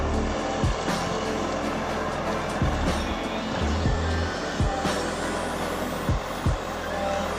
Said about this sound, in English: That is the 600 horsepower Volvo FH16 combined with a Faymanville trailer and an Epsilon crane.